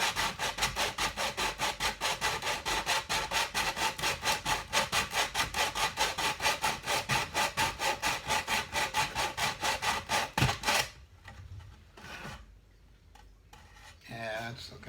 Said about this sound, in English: This is a 100 grain. Since we want to shave it down and not necessarily smooth it, we're going to use a rougher sandpaper.